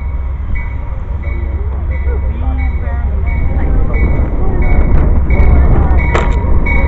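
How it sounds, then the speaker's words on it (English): An Amtrak passenger train pulls into a station, a steady low rumble of rolling wagons and wheels that grows louder toward the end, with faint squeals and clicks on top. "Here comes our Amtrak train in."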